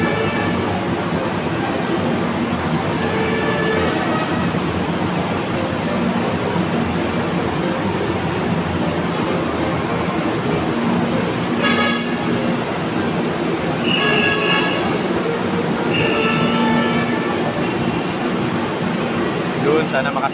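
Steady rumble of a Metro Manila MRT train with a busy, packed crowd murmuring throughout, and brief high squeals and chimes rising near the middle.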